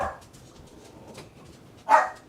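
A chihuahua gives one sharp, high bark near the end, close and fairly loud, after a stretch of near silence.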